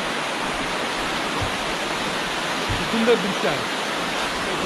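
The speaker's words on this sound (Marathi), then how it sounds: "इथे छोटासा असा धबधबा आहे" A small waterfall near a village on a trek gives off a steady broadband rush of falling water that fills the scene, with a person speaking briefly under the constant splash.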